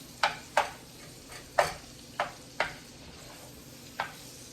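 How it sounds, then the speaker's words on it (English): Sausage and garlic browning in a pan for a cauliflower sausage keto soup, a soft steady sizzle broken by about seven crisp spatula scrapes and taps at irregular intervals. "So I'm just going to keep browning this, and I got the garlic in here browning with it"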